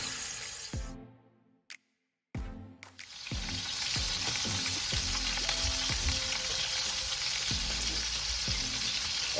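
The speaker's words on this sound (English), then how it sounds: "now I got these nice and seared on all sides" Beef short ribs sear in a pot with a loud, continuous, close-up sizzle and spatter that builds after a brief silence near the start, with occasional ticks and pops. No voices are heard.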